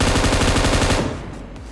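A DP machine gun fires in PUBG Mobile, a rapid, loud, evenly spaced burst of shots for about a second that quickly fades into a reverberant tail.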